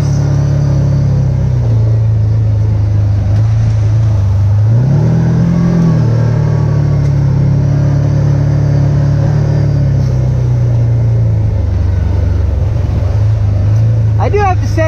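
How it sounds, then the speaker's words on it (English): Can-Am Commander XTP side-by-side engine droning steadily from inside the cab while driving, a loud continuous low hum with a brief rise in pitch partway through, followed by a short chirping sound near the end. "not necessarily the exhaust notes, but just the drone from the engine itself inside the cab here"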